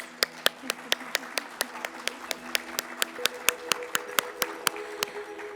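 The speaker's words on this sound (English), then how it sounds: "Let's give her a round of applause." Applause for an award recipient at a summit awards gala, heard as sparse, evenly spaced sharp claps ringing out close, with a faint voice underneath.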